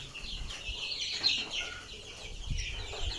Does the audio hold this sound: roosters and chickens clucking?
yes